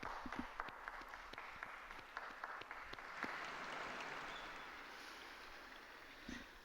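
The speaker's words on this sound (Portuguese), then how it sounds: "Um aplauso ao novo beato." Crowd applause for a newly beatified person during the Angelus prayer with Pope Francis. The clapping is scattered and faint, as if heard from a distance, and fades out toward the end.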